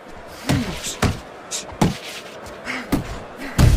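Punches thud and smack in a boxing fight simulation video game, a series of sharp, loud impacts landing at irregular intervals about half a second apart, the last one heavier.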